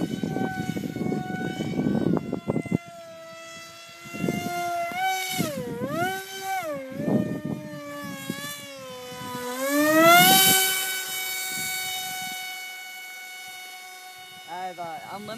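An RC F22 Raptor thrust-vectoring model plane with a 2700 kV prop drive whines through a flat spin, its motor pitch rising, dipping and sweeping in waves, with a voice heard alongside.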